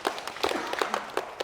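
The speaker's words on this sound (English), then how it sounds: "I'll give Steve a clap." Brief audience applause at a chiropractic conference talk in Perth, a scattered patter of hand claps from a modest crowd, moderately close and short-lived.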